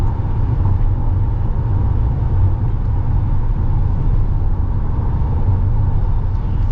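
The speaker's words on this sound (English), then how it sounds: "You get a bit of road noise and everything." Inside a moving 2026 Ram ProMaster 3500 van with a 9-speed transmission, steady low road rumble and tire drone hold at an even level throughout, with no talking.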